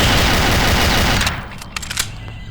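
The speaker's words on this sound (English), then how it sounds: "At least a pistol has a really good rate of fire." Rapid pistol fire in the Aliens: Eradication Doom 2 mod, a loud dense stream of close shots that breaks after about a second into a few sparser, quieter pops.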